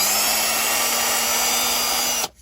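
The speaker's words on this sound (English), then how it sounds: "I'm going to use a 1/16 inch bit." A drill spins a 1/16 inch bit to clear powder from a clogged hole in a Team Associated RC10 part. It makes a steady, close, high-pitched whine that runs on and then stops abruptly near the end.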